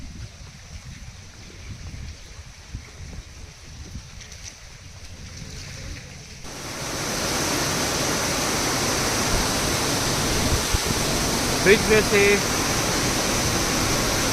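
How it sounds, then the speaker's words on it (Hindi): A person speaks over a low outdoor hum in the Scottish Highlands, then a loud, constant roar of lake water falling swells in and continues steadily to the end. "झील का पानी नीचे गिरने लगा है। इसका शोर आपको सुनाई पड़ रहा हो"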